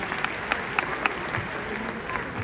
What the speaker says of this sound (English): Give those other finalists a big round of applause as they leave here tonight.